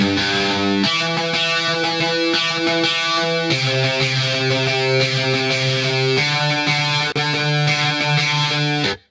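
UJAM Carbon virtual instrument playing a dry synth phrase over a simple four-bar chord progression, a dense, buzzy, sustained tone with chord changes every couple of seconds, loud and continuous until it cuts off at the end.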